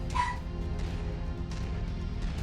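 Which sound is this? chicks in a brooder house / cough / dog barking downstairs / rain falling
dog barking downstairs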